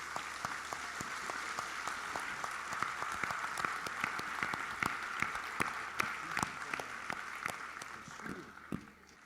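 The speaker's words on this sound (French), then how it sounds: "j'aimerais qu'on l'applaudisse tous très fort ce soir" An audience at an evening tribute to mothers applauds loudly, giving sustained crowd clapping with distinct sharper claps standing out, fading slightly toward the end.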